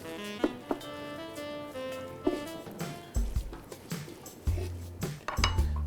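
Chopped coriander stirred into a cooking millet and pesara dish: clinking and scraping of a utensil against a pot, with a faint sizzle beneath and steady musical background throughout.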